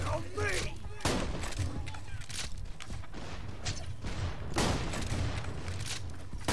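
Gunfire in the video game Borderlands 2 comes in dense, loud bursts and rapid shots filling the whole stretch, with a voice talking underneath.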